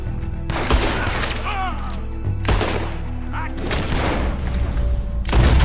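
Gunfire in Red Dead Redemption 2: repeated loud bursts of shots and booming blasts crowd a dense, noisy firefight, with brief voice sounds mixed in.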